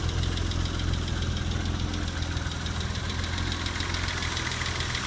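A 1980 BMW 635 CSi Euro-spec engine runs at a steady idle, a loud, close, continuous rumble with an even pulsing texture and no talking.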